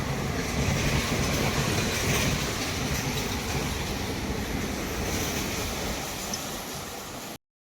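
A train runs along the railway near Udumalpet station on the way to Palani, giving a loud, continuous rumbling roar with rattling wheels that holds steady before cutting off abruptly at the end.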